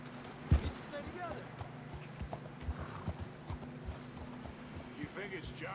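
Horse hooves clip-clopping at an uneven pace in the video game Red Dead Redemption 2, with a snort or whinny and ambient outdoor sound around them.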